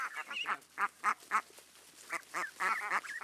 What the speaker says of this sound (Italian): Le giovani anatre, ormai quasi adulte, si avviano a diventare mondine.